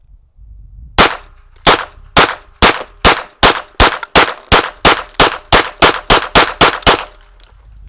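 A 2011-style pistol without a compensator fires about fifteen sharp, very loud shots in a fast, even string, each crack ringing briefly before the next.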